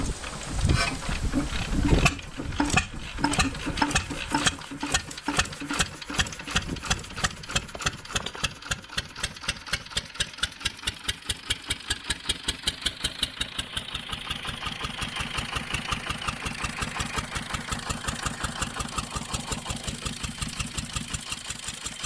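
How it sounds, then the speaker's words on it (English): A 1937 Ruston and Hornsby 1VSO vertical single-cylinder diesel engine, 7.5 horsepower, cranks and fires up, its loud, regular thumping beats slowing and settling into a steady, evenly spaced idle chug. "the 1937 vertical diesel engine Ruston and Hornsby 1VSO starts up"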